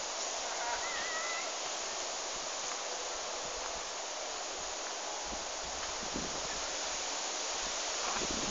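Wind blows through a forest in a steady, continuous broadband rush, with leaves rustling throughout and no voices.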